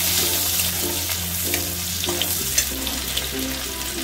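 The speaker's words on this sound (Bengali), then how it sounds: "পেঁয়াজটা একটু ভাজা হবে" Onion frying in oil with black cumin seeds in a home kitchen pan, a steady soft sizzle over a low constant hum, with faint stirring clicks and no voices.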